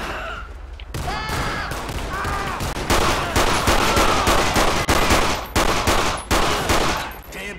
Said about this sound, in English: Oh wow, they're shooting at him.